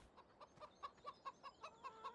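Video game chickens in Farming Simulator 17 cluck in a steady, evenly spaced series of short calls, about a dozen in a row, with no other sounds.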